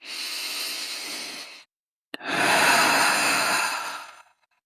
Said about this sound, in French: Profonde inspiration, lente expire.